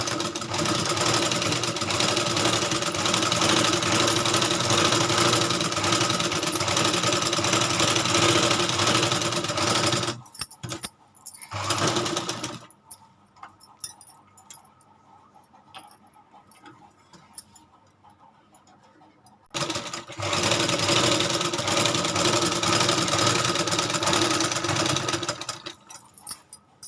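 A sewing machine stitches a fitting seam on a suit, running steadily and loudly for about ten seconds, stopping for a quiet stretch with scattered clicks, then starting up again and running to the end.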